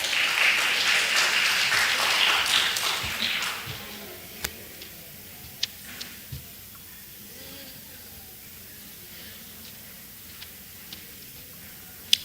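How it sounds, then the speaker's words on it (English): Church audience at a Christmas in the Bahamas event giving a round of applause, a burst of clapping for a few seconds that fades out, followed by quiet with occasional isolated claps and clicks. "Let's give them a round of applause."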